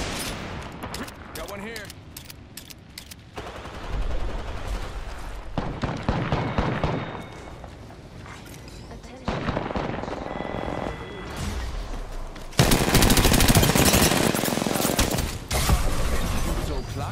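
Gunfire in the battle royale game Apex Legends, dense bursts of rapid automatic shots and heavier booms coming in waves, loud and close, with a voice speaking briefly among the shots.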